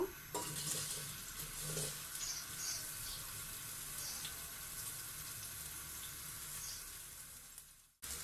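Chopped onion frying in hot oil in a pan for a beef and sweet pumpkin bhuna, a steady close sizzle with stirring scrapes and clinks running throughout, ending in a brief gap.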